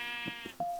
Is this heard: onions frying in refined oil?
no